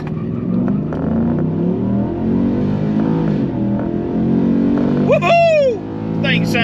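A Ford F-150 with a 5.0 Coyote V8 and an S&B cold air intake revs and accelerates loudly under way, a steady rising engine drone with a sharp whooping cry near the end, and voices can be heard throughout.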